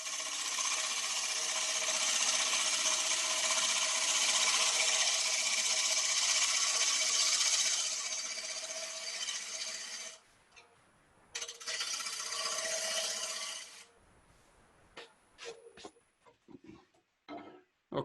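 A lathe cut on a wooden workpiece still showing bandsaw marks gives a steady, loud broadband hiss for about ten seconds. It then breaks into shorter bursts and scraping touches that end in scattered light contacts.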